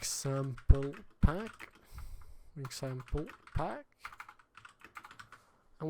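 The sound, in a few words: typing on a computer keyboard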